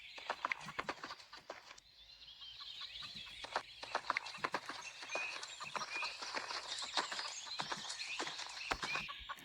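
A horse let loose in a paddock runs about, its hooves thudding in irregular bursts, while chickens cluck nearby and a voice is faintly heard.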